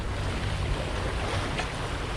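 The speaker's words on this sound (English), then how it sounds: "There's some big old rolly waves coming in and not much wind" Big rolling ocean swell washing against the hull of a Hallberg-Rassy 54 sailboat off the Jamaican coast in light wind, a continuous broad rushing of water and gentle wind noise, near and steady with no voices.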